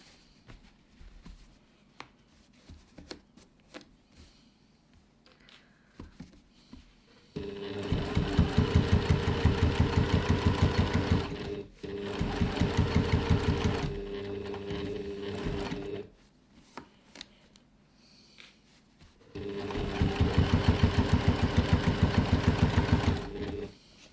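A sewing machine stitches fabric for a reusable grocery bag in two long loud runs of rapid rhythmic needle chatter, separated by a short pause and a quieter stretch.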